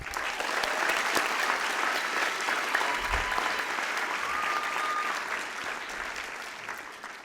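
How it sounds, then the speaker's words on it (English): A graduation ceremony audience applauds the graduating class of 2025, a dense, steady wash of clapping that holds strong throughout before easing slightly near the end. "Can we all give a round of applause to this year's graduating class?"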